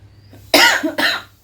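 Two harsh, wet coughs from a sick person with a sore, hoarse throat, close and loud, the second following a short pause after the first, with no talking.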